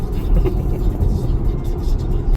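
A car cruises along a highway at about 73 mph, heard from inside as a steady low rumble of road and engine noise, with faint voices now and then.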